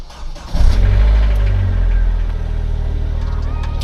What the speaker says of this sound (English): I hate starting up this car because it honestly terrifies me, but let's go.